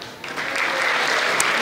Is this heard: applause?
yes